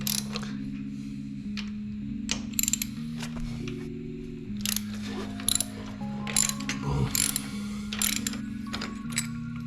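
Ratchet driving a T45 Torx bit works loose the Loctite-secured exhaust bolts on a Harley-Davidson Low Rider ST motorcycle, giving close, repeated bursts of crisp clicking over a steady low hum.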